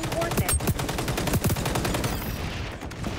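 Rapid, sustained assault-rifle fire in the shooter game XDefiant, with dense overlapping bursts cracking loudly and almost continuously before tailing off near the end.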